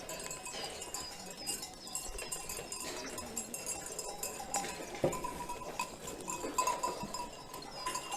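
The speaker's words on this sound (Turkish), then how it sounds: "Keçi tekeyi kızdırdı." Goats, including a billy goat, bleat faintly and intermittently at a distance during evening feeding, with soft rustling and a light clink in the background.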